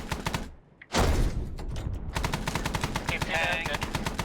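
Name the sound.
gunfire in the video game Arma 3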